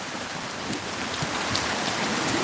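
Steady rain falls continuously, a dense hiss of drops with occasional louder patters, no voices present.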